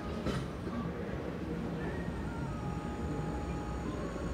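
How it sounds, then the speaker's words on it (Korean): KTX high-speed train pulling into a station platform, a faint continuous rumble with thin high whines, heard at a distance with no voices over it. "안쪽 승강장 선으로 KTX 들어오고 있습니다"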